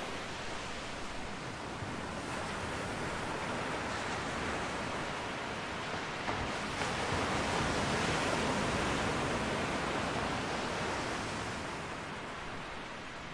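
Evening sea waves at Rock Beach, Pondicherry, roll as a continuous broad wash of surf, a steady, fairly faint roar that swells slightly midway with no distinct voices.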